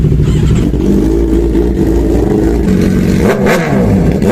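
A Suzuki GSX-R600 sport motorcycle revs hard nearby, a loud continuous engine roar rising and falling in pitch with a sharp throttle blip near the end, no voices.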